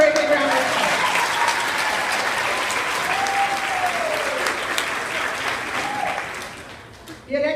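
An audience at a 3rd and 4th grade school awards ceremony claps steadily for a student award winner, a dense, sustained round of applause that fades near the end before a short final burst, with faint voices in the room.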